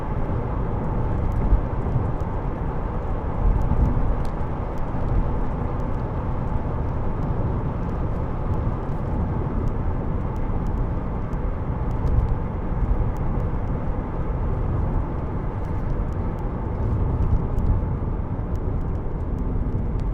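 A 2003 Alfa Romeo GTV 2.0 Twin Spark 16v two-door cruises at 70 mph, giving a steady, loud cabin drone of engine and road noise throughout.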